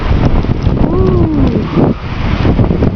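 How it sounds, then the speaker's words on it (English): A gust of wind rushes loudly past the microphone during a snowstorm in Portland, Oregon, a blustery roar that buffets throughout while a voice gives a brief exclamation. "Here comes the gust."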